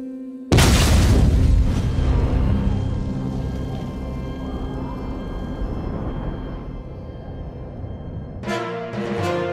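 A sudden loud boom from a truck explosion bursts out, followed by a long rumbling, crackling roar that slowly fades, with a brief tonal sound at the end.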